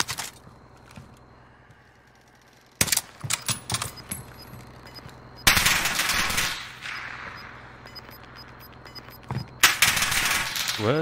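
Gunfire in a Warzone battle royale match: a quiet stretch, then sharp bursts of rapid automatic shots and ringing clinks, loud and close, recurring in clusters with pauses between.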